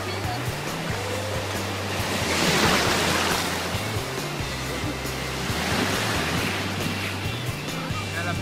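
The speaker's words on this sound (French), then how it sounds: "À la plage, on joue un peu avec les vagues." Ocean surf rolls in on the beach at Wimereux as a steady, roaring wash that swells and recedes, with a low droning hum running underneath.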